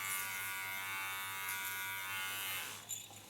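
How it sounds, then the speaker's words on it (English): A large electric hair clipper buzzes steadily and close while cutting hair, holding a constant hum before easing off near the end. "so far the large clipper"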